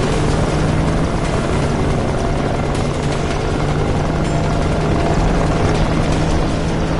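A police helicopter in the Need for Speed Rivals racing game hovers overhead, its rotor beating in a loud, dense, continuous chop that fills the whole stretch without any talk.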